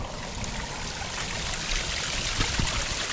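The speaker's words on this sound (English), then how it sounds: "See water coming down from the grass" Rainwater from a typhoon trickles off grassy ground into a concrete canal in the Philippines, a close, continuous babbling flow with small splashy surges near the end.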